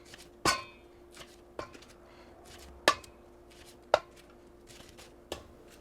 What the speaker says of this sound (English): I'm just going to half them, just like that